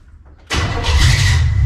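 A 1956 Chevy 210 started with a key: a brief cranking moment, then the engine catches abruptly and settles into a loud, rumbling idle up close.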